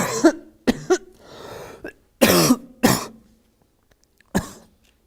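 Someone coughs and sputters in several harsh, separate bursts with short gasping gaps and a rough breathy stretch between, close and clear with no other sound.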